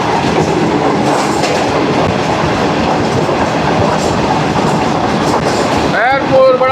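The Shalimar Express passenger train rolls along the track with a loud, steady rumble and rhythmic clickety-clack of wheels heard from on board, ending with a brief rising squeal.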